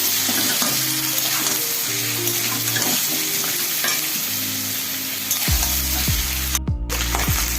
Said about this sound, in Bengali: এটা আমি খুব ভালো করে কষে নেব।